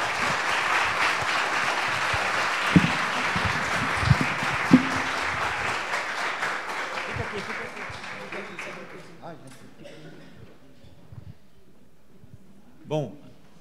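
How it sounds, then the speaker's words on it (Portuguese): A church crowd applauds steadily for several seconds, a few sharper claps standing out, before the clapping fades away to near quiet. "Aplauda Jesus."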